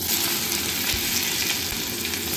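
Onions hit hot oil after cumin seeds have browned, producing a loud, constant, close sizzle that stays even throughout, with no voices.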